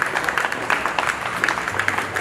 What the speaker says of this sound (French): Nous allons l'accueillir avec des acclamations